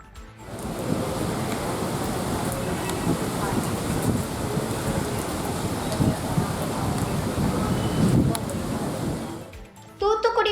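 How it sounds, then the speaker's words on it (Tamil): Heavy summer rain pours in a dense, continuous roar for about ten seconds near Eral in Thoothukudi district, then cuts off abruptly. "மழை வெளுத்து வாங்கி வருகிறது"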